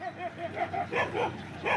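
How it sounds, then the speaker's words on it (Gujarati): Dogs near a cattle yard give a series of short yips and whimpering barks, about six quick calls close by over a quiet background. "એટલે કૂતરા આયા."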